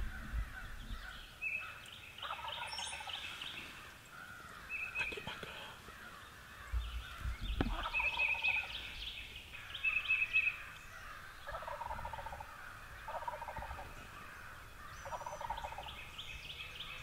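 A wild turkey in the woods at dawn gobbles repeatedly in rattling bursts, moderately distant, amid other bird calls and faint rustling, with hushed human voices at times.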